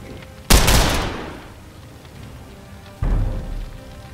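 Two loud bursts of LMG fire in The Lamplighters League, each a sharp automatic volley that decays over about a second, the first stronger and the second coming some two and a half seconds later, with no talk.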